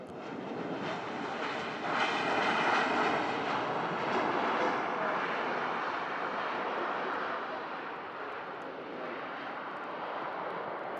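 A Eurowings airliner at Manchester Airport gives a sustained, loud jet engine roar that holds steady for the whole stretch and fades slightly toward the end.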